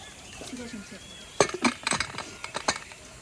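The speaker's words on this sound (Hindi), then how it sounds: "ढक्कन लगा दिया।" A metal lid is set onto a cooking pot of red lentils (dal) in a home kitchen, making a cluster of sharp clinks and rattles partway through, near and moderately loud, with soft speech around it.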